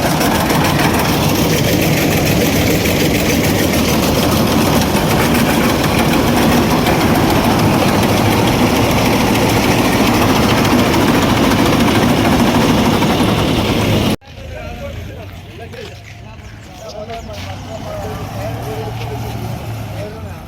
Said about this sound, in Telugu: నిన్న ట్రాక్టర్ రివర్స్ రాక అక్కడ గుంటలో దిగబెట్టిండు